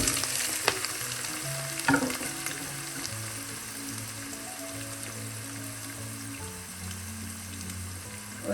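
Onions fry in a pan of hot oil with fennel seeds, green chillies and curry leaves while a chicken and fried potato curry is made. A steady, close sizzle is stirred now and then, with a few sharper clatters early on, over a faint tonal background.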